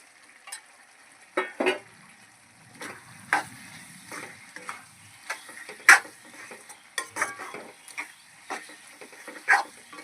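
Fried dried prawns tipped into a frying pan and stirred, with a soft sizzle under repeated scraping and knocking of a spatula against the pan in an uneven rhythm.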